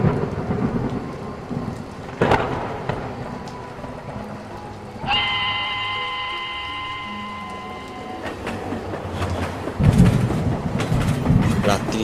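A rain and thunderstorm sound effect plays at a railway station in the monsoon month of Shravan, with steady heavy rain, booming thunder rolls and a passing train rumble and whistle-like tone in the middle.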